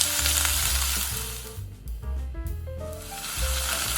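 Thinly sliced pork fries in vegetable oil in a pot beside lightly cooked vegetables for homemade ramen, a steady close sizzle and hiss with some stirring, with a faint tonal background sound throughout.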